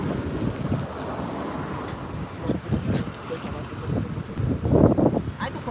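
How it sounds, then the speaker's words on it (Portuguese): Strong outdoor wind buffets the microphone on a live stream, a steady low roar broken by louder gusting bursts, with faint voices mixed in. "Hoje tá bem ventania aqui, né?"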